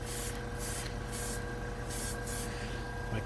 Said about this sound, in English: compressor went on for the first time in a while